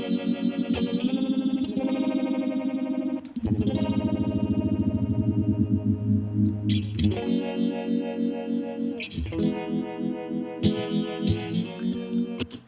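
A Line 6 Helix Native Barber Pole modulation effect sweeps over sustained, slightly distorted tones, giving a swirling chorus-like wash with pulsing tremolo movement, loud and up close with no speech.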